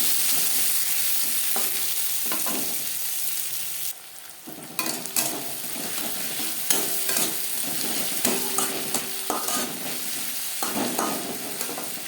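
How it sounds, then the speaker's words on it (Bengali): Chopped onion and tomato frying in oil in a pan for a Bengali-style tangra fish curry, a steady close sizzle broken by repeated scraping stirs and clinks of a spatula, with no talking. "দিয়ে দেব পেঁয়াজ কুচি ও টুকরো করে নেওয়া টমেটো"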